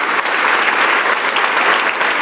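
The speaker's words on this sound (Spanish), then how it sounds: "arránquele un aplauso a Dios con todo su santo corazón" A church congregation applauding steadily, dense clapping that holds at an even loudness for a couple of seconds with no pauses.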